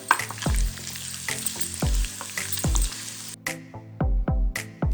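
Hot oil sizzles steadily as chopped garlic sautés and a spoon scrapes and knocks against the pan in repeated strokes, close up, with no talking.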